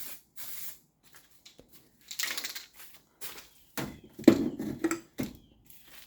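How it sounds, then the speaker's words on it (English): Short bursts of aerosol bedliner coating spraying hiss close by, sputtering and uneven as the can runs low, with a few clicks and rattles between sprays. "So when them cans start running low, they start spraying a funky looking pattern"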